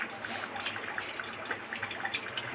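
A steady stream runs from a home kitchen tap, a continuous hissing splash with small irregular spatters, heard close and alone.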